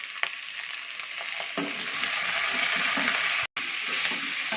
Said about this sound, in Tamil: இப்போ வெங்காயம் போடுறேன்